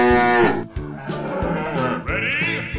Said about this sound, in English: Buffalo.